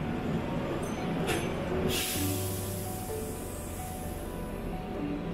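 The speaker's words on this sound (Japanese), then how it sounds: "2400系の電車ですね。" A Keihan 2400 series electric train sits at Kyobashi station, giving off a low, steady motor hum with brief bursts of hiss, fairly quiet and without any talk.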